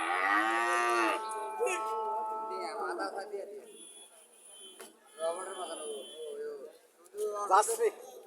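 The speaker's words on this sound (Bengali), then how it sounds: "প্রচুর সার বাছুর এখানে আছে" Bull calves moo at a busy cattle market in Chouara, Cumilla, with one long, loud, close moo followed by further shorter calls as people talk nearby.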